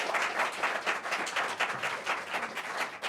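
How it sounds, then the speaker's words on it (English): An audience at a global health panel event applauds the panelists, a steady, dense wash of clapping lasting the whole stretch at moderate loudness with no voices over it. "I want to have a little applause for all my panelists."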